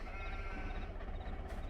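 Sheep bleating on a dairy farm in Farming Simulator 22, a few overlapping bleats over a low steady rumble of game ambience, fairly close and continuous.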